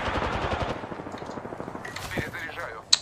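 Rapid automatic R-301 carbine fire in Apex Legends, a dense string of close, sharp shots over about two seconds, followed by scattered game effects and a final loud crack.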